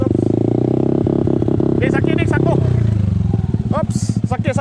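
A motorcycle on an enduro trail ride near Digos City, its engine running loud and close with a steady throbbing rumble that eases and pulses toward the end, while people talk over it.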